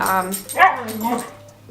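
Dogs in a home setting making a short, close yip or whimpering bark, brief and clear.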